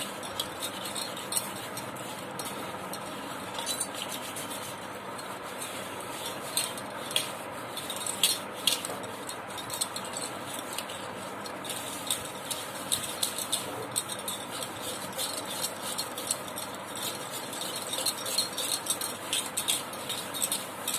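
Scrubbing a bell-metal and brass dish with cleaning powder and a little water: steady gritty rubbing with faint scraping squeaks, close and continuous, with no talking.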